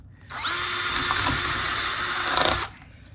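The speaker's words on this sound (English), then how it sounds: "see how it's cracking because my drill bit isn't very sharp" A power drill with a dull bit bores into a plastic plant pot, giving one steady, high-pitched whine of about two seconds that starts and stops abruptly, close and alone.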